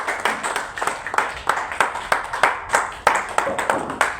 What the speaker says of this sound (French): Applaudissons pour le Seigneur Jésus-Christ de Nazareth.